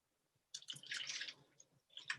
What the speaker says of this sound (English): I like the fizzy soda because it foams up a little bit when you first pour it